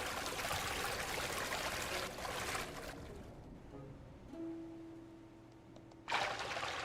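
Flowing water placed in the building game Tiny Glade, a broad bright rush of stream-like trickling that drops away partway through, leaving a faint low hum before the water swells back loudly at the end.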